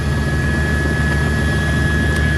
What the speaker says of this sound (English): Let's go to April Lamonica up in Chopper 4 with some more information